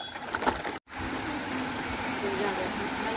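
Heavy rain pours steadily onto a rooftop where pigeons shelter, a dense continuous hiss with a brief dropout near the start, heard close and fairly loud with faint background sounds.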